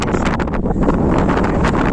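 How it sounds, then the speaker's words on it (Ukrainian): Strong wind roars and buffets the microphone without a break, steady and loud outdoors on a field worked with a mulcher, with no other sound coming through. "вітер страшний"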